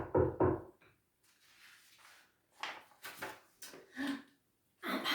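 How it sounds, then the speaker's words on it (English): Knocking at a door in a children's story setting, a few sharp raps with quiet gaps between them, heard alone without talk. "there was a knock at the door"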